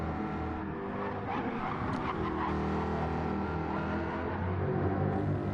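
A red and black pony race car in a racing video game roars past close by, its engine note steady and loud with a brief skid partway through, alone without talk.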